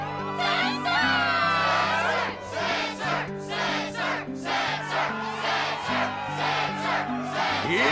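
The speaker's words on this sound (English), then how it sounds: "Yes, the crowd is fired up" Crowd of spectators cheering and chanting at a Struggle tournament in the video game Kingdom Hearts, a loud, sustained roar of voices over steady game music throughout.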